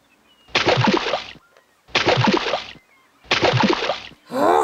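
A toy splashes into water three times in a row, each a loud, close burst of sloshing and spattering that lasts about a second, separated by short quiet gaps, followed by a voice at the very end.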